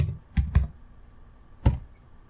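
A few crisp keystrokes on a computer keyboard, two quick taps then a pause and one final firmer press, close and clear in a quiet room.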